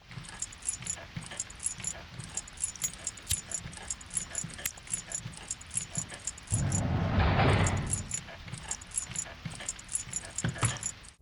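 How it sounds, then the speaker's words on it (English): The janitor's ring of keys in the 2001 Korean horror game White Day jingles and jangles steadily in a busy clatter, with a low rumbling swell in the middle, like approaching footsteps or a grunt, before the jingling carries on. "Here comes the jingle jangle of keys and grunts of the janitor."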